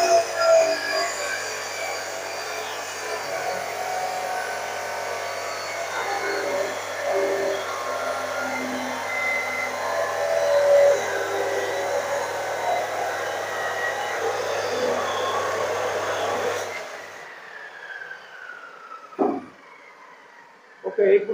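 An abrasive cutting machine grinds through a solidified cast metal sample in a foundry workshop, a steady loud whining hum that stops abruptly near the end, followed by a few brief clatters; a person talks over it.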